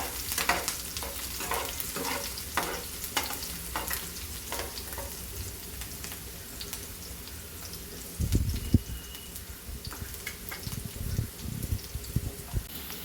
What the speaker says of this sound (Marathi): कांदा एक दोन मिनटं परतून घ्यायचा